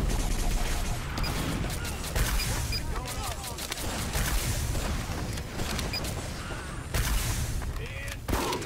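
Rapid gunfire and explosive bursts in the game Team Fortress 2, dense crackling volleys with heavier booms, loud and continuous, under a voice talking excitedly.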